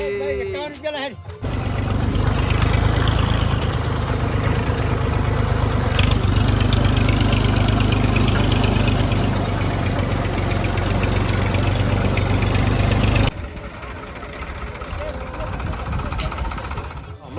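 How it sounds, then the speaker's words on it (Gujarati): A tractor engine idles loudly and steadily during the wheat harvest on a farm, a low throbbing rumble that runs most of the clip before dropping off, with people talking over it. "ટ્રેક્ટર આવી ગયું."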